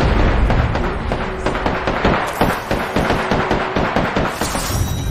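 A frag grenade detonates in Apex Legends with a loud close blast, then a rapid series of sharp cracks and pops rattles on for several seconds before fading.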